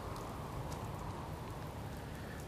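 Rain falling in the video game Fallout 4, a faint, even broadband wash holding steady throughout with no voices.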